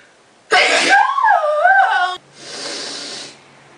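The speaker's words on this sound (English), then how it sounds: "I also need to sneeze." A person lets out one close sneeze, a sharp burst that trails into a whiny, wavering exhale and then a softer breathy sniff.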